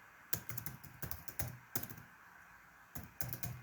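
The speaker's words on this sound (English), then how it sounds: "just typing some dummy content to make sure that this is working fine" Code is typed on a computer keyboard in fast bursts of crisp key clicks with brief pauses between runs, close and fairly quiet, with no talk.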